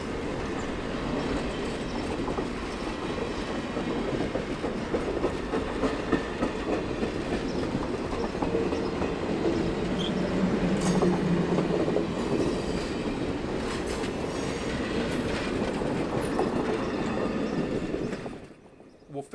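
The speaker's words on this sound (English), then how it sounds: "You can hear those ties ache under the weight of that train." A long CSX freight train rumbles steadily past with rhythmic clacking and creaking of the rails and ties, continuous and loud, before the sound cuts off at the end.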